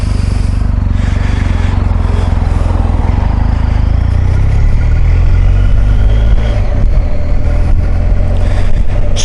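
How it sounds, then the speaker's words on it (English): A BMW R1250 GS HP edition motorcycle pulls away from a dealership, its engine a loud continuous throaty rumble heard from the rider's position, mixed with wind noise and with no talk. "on the BMW R1250 GS, the HP edition. I'm currently just riding away from Cooper's BMW where I've just been."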